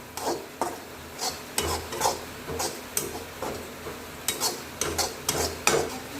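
Peanuts being stirred and sautéed in a pan give repeated scraping, rattling strokes of a spoon against the metal, about two each second, over a faint sizzle.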